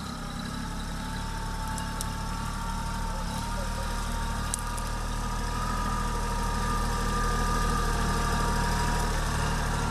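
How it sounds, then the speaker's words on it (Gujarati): A tractor ploughs a farm field, its engine making a steady low, throbbing drone that runs unbroken throughout at moderate distance. "એક યુવાન ખેડૂત ટ્રેક્ટરથી ખેડ કરતો હતો"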